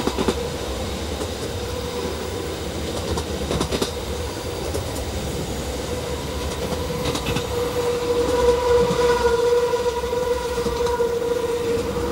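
A mountain railway train climbs steadily along the track on the Arosa line at about 30 km/h, with a continuous rumbling drone, wheel clatter, and a faint squeal growing louder toward the end.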